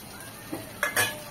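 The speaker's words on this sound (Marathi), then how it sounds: "तर आता याच्यामध्ये मी हा बटाटा घालते." Potato going into a pan of frying peas and cauliflower bhaji, heard as a faint sizzle broken by a few quick metallic scrapes and clinks of a spoon against the pan.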